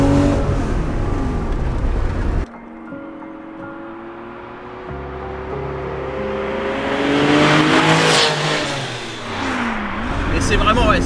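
A Porsche 911 Carrera 2.7 RS Touring engine revs hard while accelerating out of a bend, the note dropping at a gear change and then climbing steadily louder, with someone talking over it.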